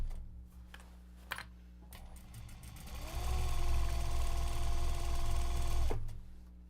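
A sewing machine stitches a seam on a tote-size Japanese fabric bag, a few scattered clicks and taps giving way to a steady, loud mechanical whir that runs for about three seconds, then stops abruptly.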